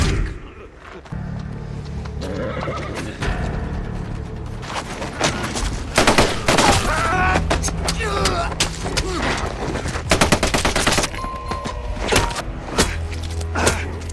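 Bursts of gunfire ring out in a brutal war-film scene, loud sharp shots clustered in rapid volleys between engine-like rumbles and clanks, with a voice briefly shouting amid the chaos.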